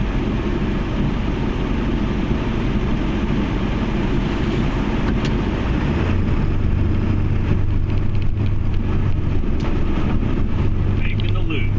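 A Ford F250 Powerstroke diesel truck drives steadily while plowing snow, its engine a continuous low drone with rumbling and scraping texture throughout, a deeper hum rising partway through, and a voice talking over it.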